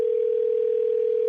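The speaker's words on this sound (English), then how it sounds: "It is ringing." An outgoing telephone call on a live radio show produces a steady single-pitched ringback tone that stays loud and constant through the whole short clip, with no talking over it.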